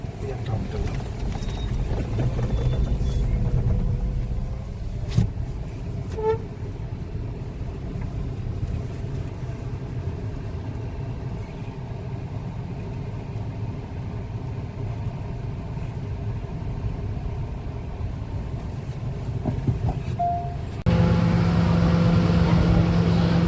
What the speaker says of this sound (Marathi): Dhope Dabhol ferry boat